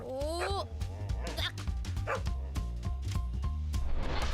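A dog in a car yips, whimpers and barks in short bursts within a Tamil comedy thriller film scene, the sounds mixed with people talking close by.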